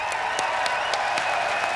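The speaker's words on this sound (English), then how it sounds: "Please, round of applause for Team UK." Crowd applause at a Robot Wars televised robot combat event honoring Team UK, steady dense clapping filling the whole short stretch without a break.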